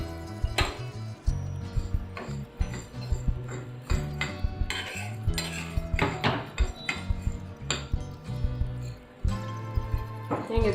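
Toor dal lentils being dry roasted in a pan on the stove, with irregular scraping, rattling and clinking of a spoon against metal, stirred in uneven bursts close up.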